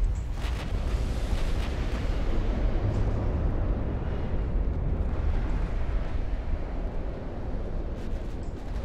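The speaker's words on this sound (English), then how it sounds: "The Parker just exploded." Warship battle in Ultimate Admiral: Dreadnoughts, with a ship blowing up: a deep, rumbling blast and churning low roar that rolls on steadily, like heavy surf, with no voices.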